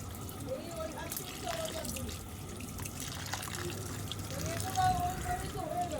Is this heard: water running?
yes